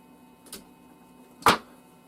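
Battery wires have their ends stripped in a shed workshop, giving two short, crisp snips about a second apart. The second is louder and sits against a quiet background hum.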